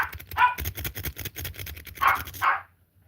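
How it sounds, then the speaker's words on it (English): A dog barks downstairs in a house, a handful of muffled, moderately distant barks spaced across a few seconds, with quiet panting-like sounds in between. "Sorry, my dog's barking downstairs."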